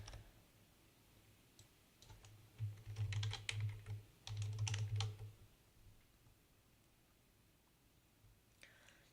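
Computer keyboard typing while entering an address into a parent portal form: two quick bursts of rapid key clicks in the middle, close and fairly quiet, with near silence before and after.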